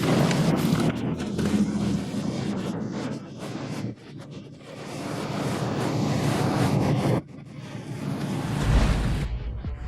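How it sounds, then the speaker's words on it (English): A huge chunk of Alaskan glacier collapses into the water, followed by a roaring, churning surge of icy wave and falling debris, heavy wind buffeting the microphone and a sharp break near the end. "A 60-meter chunk snapped off and dove into the water, lifting a huge icy wave with debris falling on some unfortunate tourists."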